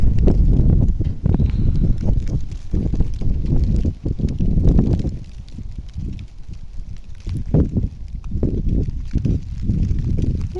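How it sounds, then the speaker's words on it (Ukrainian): Strong gusty wind during the first snowfall in the Kyiv region, buffeting the microphone in loud rumbling waves, easing briefly before surging again throughout. "Ох, вітер який."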